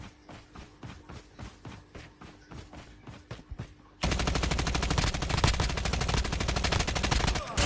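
Gunfire in Call of Duty Mobile, a rhythmic series of distinct shots followed by a dense, loud burst of rapid automatic fire.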